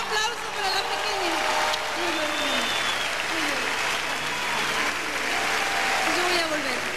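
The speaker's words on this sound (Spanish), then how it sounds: "Un aplauso para la pequeña." A festival audience at the Quinta Vergara in Viña del Mar applauds steadily for several seconds, a dense crowd clapping while a voice speaks and whoops over it.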